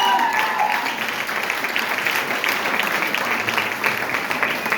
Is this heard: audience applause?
yes